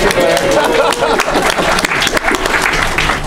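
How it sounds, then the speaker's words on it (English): A panel-discussion audience gives loud, close applause with distinct individual claps in a brisk, uneven patter, murmuring voices mixed faintly underneath. "How about a round of applause for Patricia Blair?"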